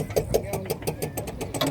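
A small racing bangka's engine pulses loudly and rhythmically at close range during a boat race, with voices faintly in the background.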